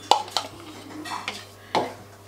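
Chicken being mixed into a marinade in a dish, with a few sharp clinks of a utensil against the dish and soft wet stirring between them, close and brief, no voices.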